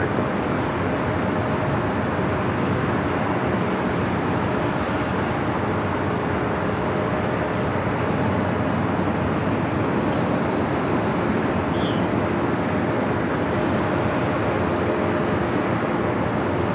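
A Delta airliner departs LAX airport as a steady, broad jet roar that holds evenly throughout, fairly distant and unbroken, with no talk.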